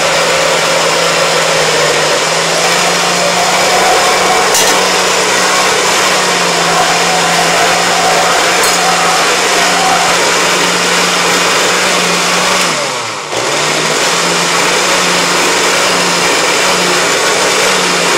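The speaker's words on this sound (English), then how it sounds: "I'm going to see if I can put the blender on at the same time." A kitchen blender runs steadily and loudly close by while liquid is strained, a continuous motor whir with a steady hum that dips briefly near the end before resuming.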